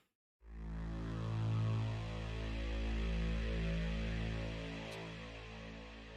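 A deep, thick low super saw synth drone swells in and holds steadily, a low buzzing wall of sound with slow shifting texture and no other sounds.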